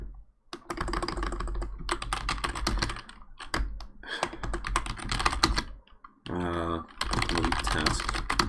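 Rapid clattering keystrokes on a computer keyboard, close and fairly quiet, coming in bursts separated by short pauses, with a brief stretch of other noise near the end.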